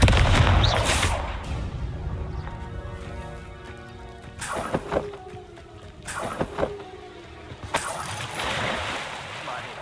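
Confringo fire spell explosions in the Hogwarts Legacy video game, a loud booming blast at the start followed by several sharp cracking bursts, set against game ambience and voices.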